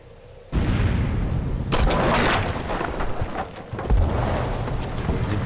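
Torpedoes strike an oil tanker in Victory at Sea Atlantic, setting off a loud booming explosion that erupts abruptly and rumbles on with a second heavy blast surging near the end.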